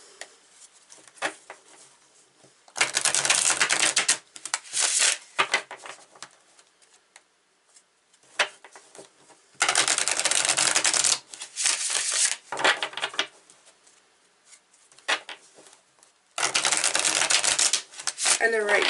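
Tarot cards shuffled in several bursts of brisk riffling and rustling, close and fairly loud, separated by quieter pauses with soft handling noises.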